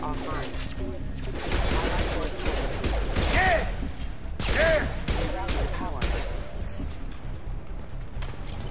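Gunfire rattles through a firefight in the Xbox 360 game Mass Effect 2, bursts landing on surfaces with sharp impacts, loud and continuous across the scene while someone talks over the shooting.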